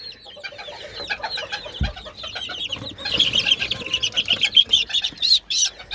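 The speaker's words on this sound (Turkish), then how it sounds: "Gelelim buradaki civcivlerimizi" Chicks peep while being moved into a new coop: thin, high-pitched chirps grow busier and more frequent over soft handling noises and a low cooing background.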